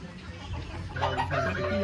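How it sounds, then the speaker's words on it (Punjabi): A Sirki breed rooster on a farm in Bassi Kikran village near Hoshiarpur clucks in a short run of close, rising calls, with a voice talking over the second half. "ਸਿਰਕੀ ਇਹ ਮੁਰਗੇ ਦੀ ਨਸਲ ਚੋਂ ਹੈ ਜੀ"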